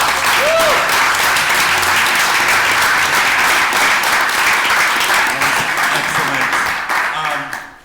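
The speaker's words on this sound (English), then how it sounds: "let's have a round of applause real quick" An audience at a design talk event bursts into loud, sustained applause that fills the room for several seconds before tapering off at the end.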